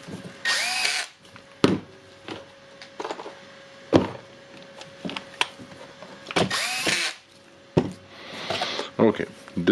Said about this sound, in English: Looks like a hammer drill with the new field, the new armature